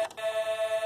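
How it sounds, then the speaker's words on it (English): A fire truck horn at a fire station sounds as a steady, slightly buzzing electronic tone that pulses evenly several times after a brief click at the start, close by with no talking. "Oh, that's the horn."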